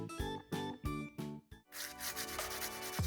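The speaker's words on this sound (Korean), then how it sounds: "손톱을 갈고 있어요." A dry, rhythmic rasping of a nail file, several short strokes with brief pauses, then a steadier continuous scraping, close and clear.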